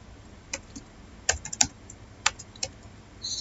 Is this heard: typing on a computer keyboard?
yes